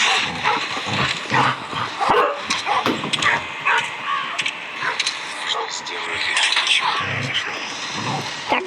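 A pet dog yips, barks and whimpers in repeated short bursts close by indoors, mixed in with a person talking.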